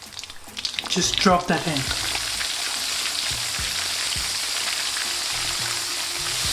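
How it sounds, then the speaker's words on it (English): Coated chicken dropped into hot oil sets off a loud, bursting sizzle that settles into a steady, bright frying hiss, with a brief spoken remark at the start. "Now this goes into the hot oil."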